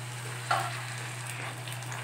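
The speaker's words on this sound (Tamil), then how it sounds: "இப்போ பூரி வந்து பொரிச்சிக்கலாம், நம்ம பொரிச்சு எடுத்துக்கலாம்." Puri frying in hot oil gives a continuous close sizzle with a soft splash or stir near the start, under a low steady hum.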